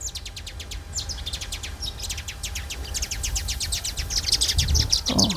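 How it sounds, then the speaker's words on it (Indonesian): Over golden, ripening rice fields in rural India, birds give quick repeated chirps and trills in fast runs, backed by a low rumble of wind or distant noise that grows louder toward the end. "Oh, suara-suara burung teman-teman."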